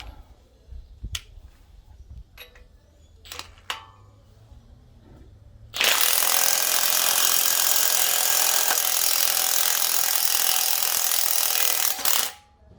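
An impact wrench hammers on a Ford E-150 XL van's suspension to push out a ball joint. The loud, continuous rattling burst lasts about six seconds and follows a few sharp clicks and knocks.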